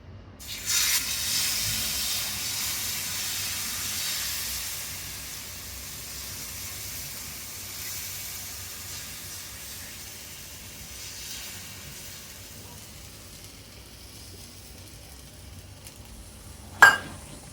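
Ragi ghavan batter poured onto a hot griddle over a gas flame, giving a steady close sizzle and hiss that slowly fades, ending with a sharp metallic clink.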